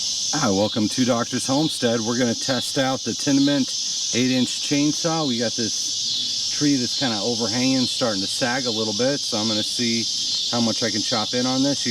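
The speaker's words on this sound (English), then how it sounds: "You hear the cicadas in the background." Cicadas buzz as a constant high drone in a backyard with an overhanging tree, faint and steady behind someone talking continuously in the foreground.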